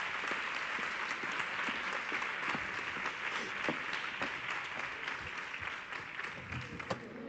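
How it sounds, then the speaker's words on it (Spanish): A lecture audience at a technology talk claps in a long, continuous round, many hands blending into an even, moderately distant patter that carries on for several seconds without speech. "Fuerte aplauso, por favor, para Asunción."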